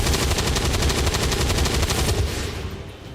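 A continuous, loud volley of rapid gunshots in XCOM 2, evenly pulsing bursts close by that hold steady before easing off slightly at the end.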